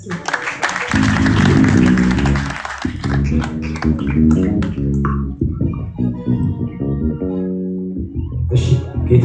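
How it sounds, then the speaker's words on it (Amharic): Church congregation applauding during a service, dense sustained clapping that swells and then breaks into scattered claps, mixed with voices and music. "ብዙ አጨብጭቡለት እስኪ።"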